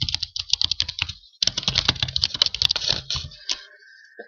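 A password is typed on a computer keyboard: close, rapid key clicks in two bursts with a short pause between, ending in a few isolated taps.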